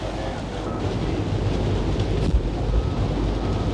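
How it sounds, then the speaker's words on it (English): Strong wind roars steadily during a wildfire, a dense, continuous rumble with gusty buffeting against the microphone and no clear voices. "I don't like the wind."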